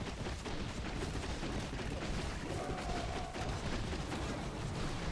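Rocket spears firing at a revenge tower in the Clash of Clans video game, a dense, loud barrage of booms and blasts that runs without a break through the whole stretch.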